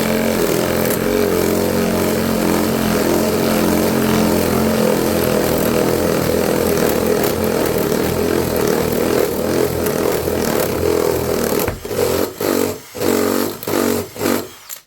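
A power drill with its bit grinding through a hidden screw buried in scrap wood during birdhouse building, a loud steady whine that runs continuously before breaking into short stuttering bursts near the end.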